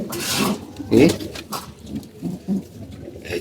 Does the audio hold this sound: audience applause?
no